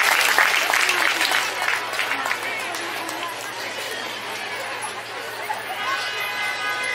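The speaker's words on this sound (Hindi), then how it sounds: "तो सब मन ताली बजाए दे" A gathered crowd at a church parish felicitation in Bramanmara applauds loudly and steadily, the clapping near and dense, with chatter and voices mixing in as it slowly fades.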